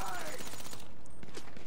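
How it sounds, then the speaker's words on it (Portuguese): Rapid bursts of gunfire crack in a GTA 5 Online shootout, a dense volley of shots over the first second, then scattered single reports, with a player talking over them. "De onde que eu tô tomando tiro"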